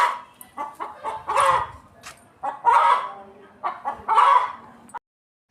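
A hen that has just laid an egg clucks in a string of loud, close, uneven bursts around a home, with no talking.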